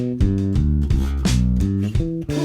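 A guitar plays a quick sequence of single notes in eighth-note rhythm, the plucks close and distinct, with a low steady pulse that may be the accompanying drum beat.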